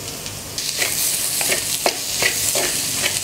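Onions sauté with salt in a hot pan, a steady close-up sizzle broken by rhythmic stirring scrapes, with one brief spoken word partway through.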